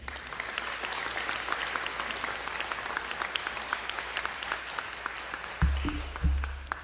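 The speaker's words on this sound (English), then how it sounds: "Let's clap it up because this is a celebration here." Audience applause at a celebration of a major Illinois Medicaid coverage expansion, a steady crowd of clapping hands held for several seconds, with a couple of heavy low thumps near the end.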